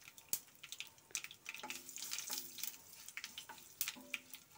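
Mustard seeds, curry leaves and dried red chilies fry in oil, giving a faint crackling sizzle broken by sharp pops and spatters.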